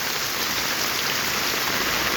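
Heavy monsoon downpour drumming steadily and densely on an umbrella and the surroundings, a loud, unbroken hiss of rain with no voices.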